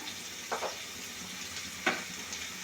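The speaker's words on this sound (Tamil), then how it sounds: "இப்போ இதை லைட்டாக வதக்கி விடுங்க" Erode-style mutton gravy with turmeric and salt being lightly sautéed, a soft steady sizzle broken by a few brief scraping stirs of a spoon, close and quiet with no talk.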